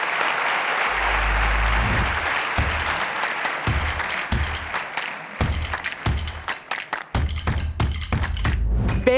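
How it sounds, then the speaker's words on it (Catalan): Audience applause at an education conference, a sustained round of clapping with scattered thumps, close and steady for the whole stretch. "un aplaudiment"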